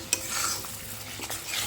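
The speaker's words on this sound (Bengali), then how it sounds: "চলো এইভাবে কষিয়ে নিচ্ছি" Fish curry masala sautéing in a pan, with a soft frying hiss under a couple of scraping stirs of a spoon, close and fairly quiet, with no speech.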